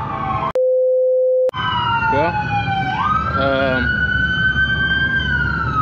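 A police siren in a GTA video game wails and yelps loudly and continuously, broken by a brief steady flat tone, with a voice speaking briefly over it.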